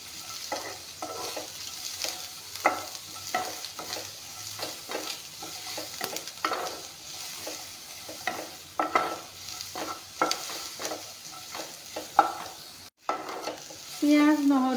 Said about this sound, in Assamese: পিঁয়াজ নহৰুখিনি অলপমান ভালকৈ ভাজি ল'ম।